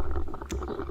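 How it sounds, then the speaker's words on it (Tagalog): Several boat motors used on a night spearfishing trip in the Philippines drone steadily with a low rumble, continuous and fairly close, with wind and water noise mixed in and no talking. "Yan ang aming mga motor."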